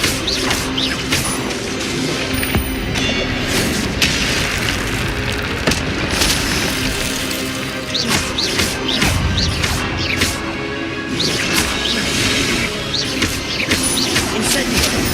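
Spells and impacts from the video game Hogwarts Legacy, dense and continuous with booming blasts, crashes and whooshing bursts layered over each other at a steady loud level throughout.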